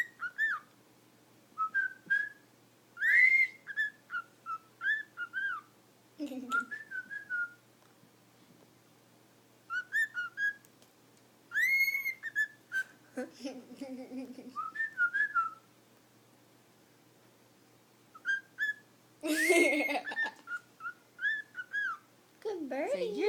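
A pet bird whistles a repeating tune, clear melodic phrases broken by pauses, interspersed with chirps and brief squawks, while a person speaks quietly between phrases.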